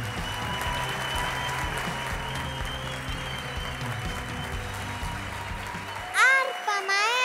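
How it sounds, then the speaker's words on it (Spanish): An audience at a children's music competition final claps steadily and loudly for about six seconds, then the applause cuts off and a voice speaks alone. "uz Arocena, representante del Estado Aragua, a quien recibimos con el más fuerte de los aplausos."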